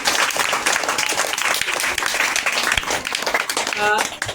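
Children and an audience applaud at a school Teachers' Day event, a loud, dense wash of clapping that runs throughout, with a short tonal musical flourish near the end.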